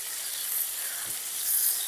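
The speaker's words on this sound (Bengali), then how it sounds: "এরপর আলুগুলোকে আমি লাল লাল করে ভেজে নেব" Large potato pieces fry in hot oil until reddish-brown, giving a steady, close, bright sizzle with soft crackles and no talking.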